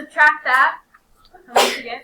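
A single sharp sneeze bursts out in a classroom during a maths lesson, following a teacher's spoken question and a short pause.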